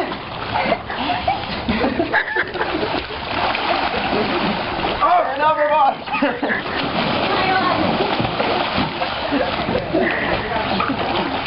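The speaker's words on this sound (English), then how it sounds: "Come on, paddle." A paddle splashes through water from a small sailboat with a sail but no wind. Choppy, close splashing runs throughout, with people talking over it.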